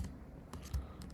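A computer keyboard is typed on in a short, quiet run of a few soft key clicks, heard alone with no speech.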